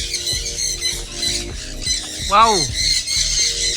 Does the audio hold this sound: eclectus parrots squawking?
yes